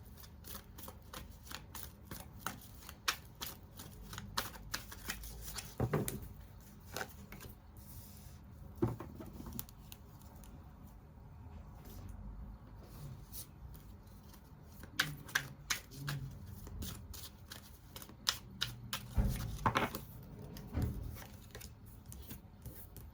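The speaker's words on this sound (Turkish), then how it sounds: "Şuraya bir tane kart koymak istedim." Playing cards being placed and slid one by one onto a table, soft papery rubs and light taps spread irregularly across the stretch, quiet and close with no talking.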